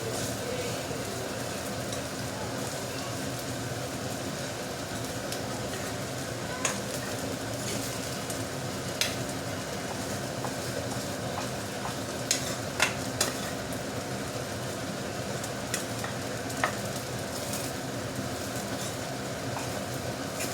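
Spicy egg fried rice is stirred and fried in a pan, with a continuous sizzling rumble broken by occasional sharp clicks and scrapes of the spatula, close and fairly even throughout.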